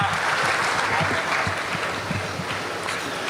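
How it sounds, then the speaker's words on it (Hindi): A crowd at a Hindi kavi sammelan in Raigarh claps to welcome a 17-year-old poet, a dense steady roar of hands throughout with voices faintly mixed in. "एक बार जोरदार तालियां बजाकर इस बच्चे का स्वागत कीजिए।"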